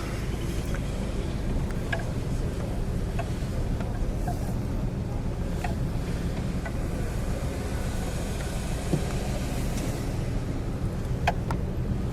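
A 1968 Cadillac Fleetwood Eldorado cruising on the road, its steady low engine and road rumble continuous throughout, with wind buffeting the microphone and faint clicks and rattles inside the cabin.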